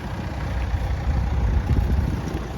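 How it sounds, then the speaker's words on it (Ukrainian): Nissan Qashqai 1.6 dCi diesel engine idling steadily at close range, a continuous low rumble with a fine irregular chatter and no speech over it. "Мотор працює чітко."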